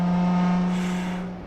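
A tuned 2009 Nissan GT-R with about 600 wheel horsepower cruises in sixth gear, its engine holding a steady, low, humming drone that eases off slightly toward the end.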